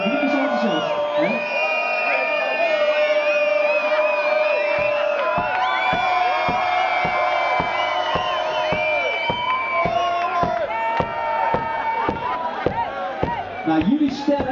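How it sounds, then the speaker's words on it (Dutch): Enthusiastic audience whooping and cheering at a televised talent show's jury segment, a dense sustained roar of many voices with yells, steady and loud throughout with rhythmic claps emerging in the second half. "Ja, het publiek is enthousiast."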